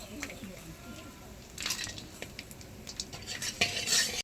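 Lentil bori (kalai dal) frying in hot oil in a wok over a wood-fired clay stove, with a spatula stirring and scraping against the pan in scattered clinks and a soft sizzle, loudest near the end.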